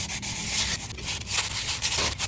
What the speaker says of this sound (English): I'm just gonna gently sand some of this rust off.